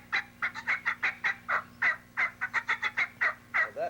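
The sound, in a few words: excited turkey hen calling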